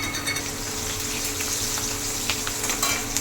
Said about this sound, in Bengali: কালো জিরে দিয়ে দেবো তেলের মধ্যে, আর দেবো চেরা কাঁচা লঙ্কা